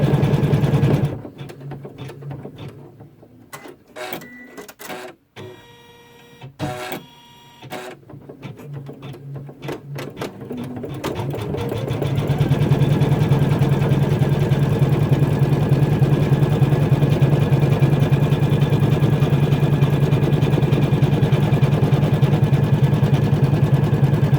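An embroidery machine stitching a koala applique, first uneven bursts of rapid mechanical stitching, then a steady, loud, continuous run for the satin and triple stitch outline.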